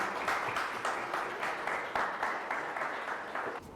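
An audience at an entrepreneurship talk applauds for close to four seconds, a dense steady patter of many hands clapping at once with no speech over it, easing off slightly just before the end.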